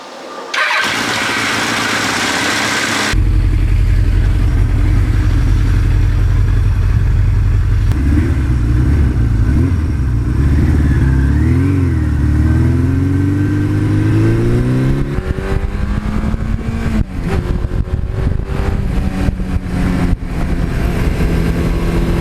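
A 1982 Suzuki GS1100E motorcycle cranks and fires up, then idles roughly before being revved several times with rising and falling engine notes, loud and close.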